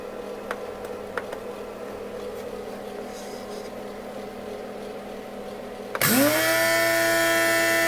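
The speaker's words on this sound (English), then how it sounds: "It's grinding coffee." A 120-watt electric coffee bean grinder switches on near the end and grinds coffee with a loud, steady high whine that spins up after a stretch of quiet room hum and a few light clicks.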